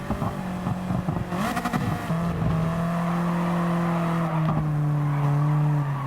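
A car drifting in Gran Turismo 7 with a sustained engine drone and long squealing tires, holding a steady pitch that shifts slightly, close and continuous.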